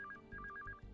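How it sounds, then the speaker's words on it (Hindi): A telephone rings indoors in a Hindi comedy film scene, a quiet electronic ringtone of short repeated beeping bursts over a low background hum. "फोन।"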